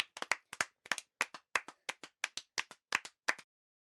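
Children in a Hindi-medium classroom clap together in about a dozen sharp, evenly spaced, close claps that stop abruptly, with no talk over them.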